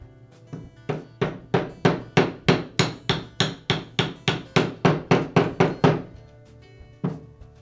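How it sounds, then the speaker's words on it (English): A bearing is tapped onto the armature shaft of a Makita angle grinder using a socket, in a rapid series of about twenty sharp metallic hammer blows at a steady rhythm, close and loud, ending with one last strike. "I'll seat the bearing back onto the armature shaft using a socket that has a diameter the same as the diameter on the inner bearing race"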